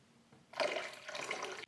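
Coconut water pours into a blender jug in a home kitchen, a short splashing, trickling stream that starts abruptly and runs steadily at close range.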